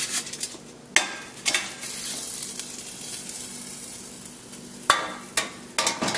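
Freshly cooked egg rolls from a Living Basix LB200 oil-free fryer make crisp crackling and crunching sounds. Several sharp bursts rise over a faint, steady background hiss, close and moderately loud, with no talking.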